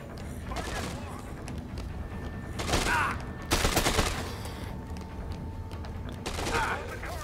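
Gunfire rattles in Dead Rising 2, with several bursts of shots and mechanical clicks, plus a loud blast that could be a grenade, set against game background noise.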